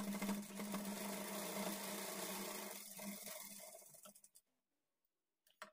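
A sewing machine stitching a lined blouse runs at a steady, close whirring pace with a strong hum, slows and stops after about four seconds, followed by near silence and a few soft clicks.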